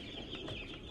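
Chickens cluck softly in a brief, faint burst of short clucks over a steady background hiss.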